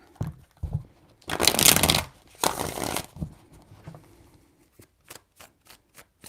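Tarot cards shuffled in three distinct bursts of riffling, each a loud papery flutter, followed by a string of sharp, evenly spaced taps as the deck is squared or cards are laid down, close up with no voices.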